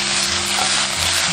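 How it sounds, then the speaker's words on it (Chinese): Scallops sizzle loudly in a wok with garlic and vegetables as sauce is poured in and everything is stirred. The frying hiss is close and continuous, and no one speaks. "边翻动边倒入芡汁"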